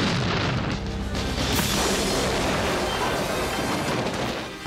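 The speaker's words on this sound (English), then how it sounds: "explosions going either side of it" Dense, sustained rumbling blasts and crashes fill the scene as the Batmobile charges through a chemical works in a Batman (1989) film scene, loud and continuous with booming low end throughout.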